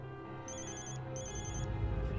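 A telephone rings in two bursts of bright, trilling electronic tone separated by a short pause, heard over a steady low background hum with no one talking.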